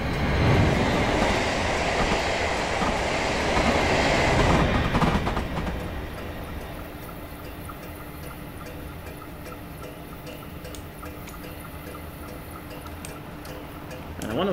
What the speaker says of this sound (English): And we've got a beautiful 444 coming.